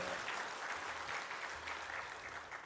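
A church congregation at a Methodist revival service applauds in praise after a prayer, steady crowded clapping that fills the room and holds evenly throughout.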